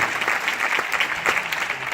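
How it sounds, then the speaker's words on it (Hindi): Loud, dense applause from an audience at an anniversary gathering, close and continuous for a couple of seconds, with no voices over it. "तिवारी जी के लिए तालियां होनी चाहिए जोरदार।"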